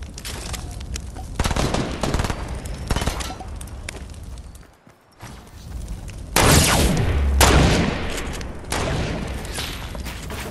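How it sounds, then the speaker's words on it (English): Bursts of rapid gunfire crackle and boom in the battle royale video game Fortnite, loud, dense volleys broken by a short lull before heavier firing resumes. "Someone's shooting at us."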